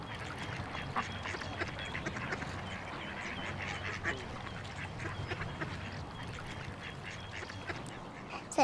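Cartoon ducks and geese from a Teletubbies episode quack and honk continuously, a soft, busy chatter of many birds with no one speaking.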